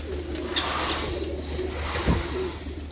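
Pigeons coo close by in a loft of domestic flying birds, a low repeated throaty cooing over a steady background hum, with a faint rustle or flutter near the start.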